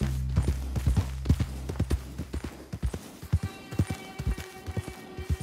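Horse galloping in the Red Dead Redemption 2 video game, a quick steady run of close hoofbeat thuds that keeps on without a break, with faint game ambience behind it.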